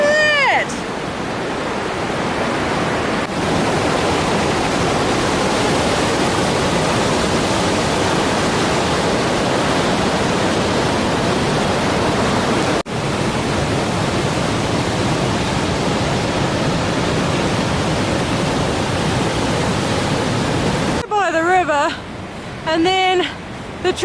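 A river rushes beside a Pacific Crest Trail hiking path, a loud, steady broadband wash of flowing water that fills the whole stretch, with brief voices near the start and end.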